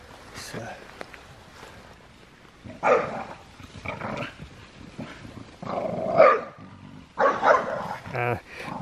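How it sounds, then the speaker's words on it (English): Several dogs bark, yip and growl playfully outdoors by a brook near an abandoned water-powered saw mill in the Scottish Borders, in irregular bursts that are close and loud at times, with people talking now and then. "Dogs are having the time of their lives."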